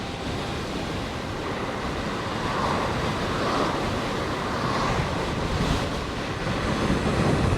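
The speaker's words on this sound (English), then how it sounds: "It's windy today." Steady, heavy wind roaring across the microphone while riding a motorwheel at top speed, a constant low buffeting rush that swells slightly toward the end.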